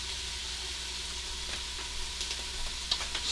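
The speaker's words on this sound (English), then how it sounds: "I've been sauteing on the saute setting in my Instant Pot" Minced garlic and ginger with a pinch of salt sautéing in an Instant Pot on the sauté setting: a constant soft frying hiss, close, with a few light stirring taps toward the end and no voices.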